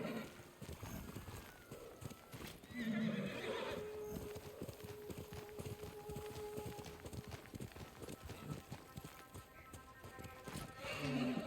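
A horse in the video game Ghost of Tsushima gallops with steady clip-clopping hoofbeats and whinnies loudly, a drawn-out neigh rising over the pounding rhythm, close and continuous throughout with a dense game soundscape behind.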